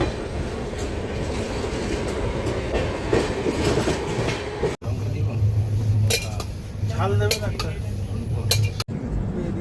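The Sealdah Humsafar Express rumbling along the rails near Aluabari Road Junction, with a steady low roar, metallic clinks and squeals, and brief clatters, loud and close.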